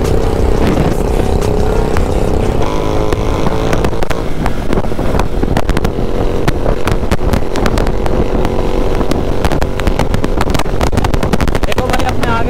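A motorcycle engine runs loudly and continuously up close, its rough rumble mixed with wind buffeting the microphone.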